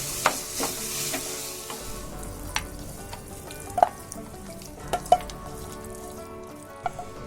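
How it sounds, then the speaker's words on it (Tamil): Mutton sukka is stirred in a pan after curry leaves go in, with a soft continuous sizzle and a few sharp spoon-against-pan clinks and scrapes at irregular intervals. "ஃபைனலாக நம்ம ஒரு கொத்தளவு கருவேப்பிலையை சேர்த்து கிளறிட்டு"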